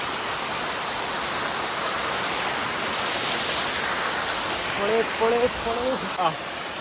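A waterfall at Varavoor, Vadakkanchery roars as a steady, dense wash of rushing water, with brief voices toward the end.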